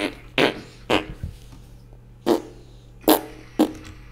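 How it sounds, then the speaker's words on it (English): Several short, breathy bursts spaced irregularly across a few seconds, like fart sounds during a game stream, each clear and fairly close with quiet gaps between them. "Spam in the chat for a fart."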